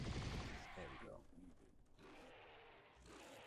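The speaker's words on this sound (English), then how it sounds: "The other one's firing his plasma caster." Plasma caster blasts from a Predator fighting a Xenomorph and a Terminator in a Garry's Mod NPC battle, a dense burst of loud rapid energy shots at the start, then quieter clattering combat noise.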